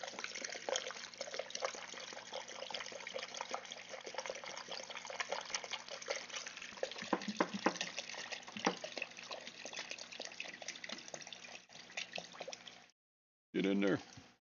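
Water runs from a tap into a container, a steady close trickle and splash that carries on for about twelve seconds before stopping, with a brief louder gush near the end.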